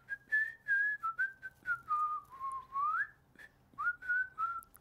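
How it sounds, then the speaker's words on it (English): Someone whistles tunelessly in a faint, wavering series of short sliding notes with small pauses between them, and no talking is heard. "So you were whistling after you had your go as well?"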